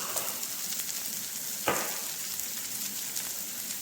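Coriander powder, chilli powder and garam masala fry in oil in a pan with a steady, quiet sizzle and one brief louder crackle partway through.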